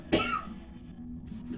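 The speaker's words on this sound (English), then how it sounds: "the coughing and the choking" A single sharp, close cough from someone with the flu bursts out, followed by a quiet breathy pause and a faint rasp.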